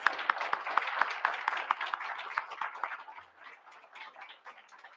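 Applause from an audience at a school board public session honoring students, with a few distinct nearby claps standing out at first, then thinning and fading toward the end.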